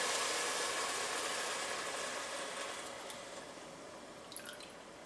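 Soup pours through a strainer in a broad liquid rush that slowly tapers off, with a few faint drips and clinks near the end.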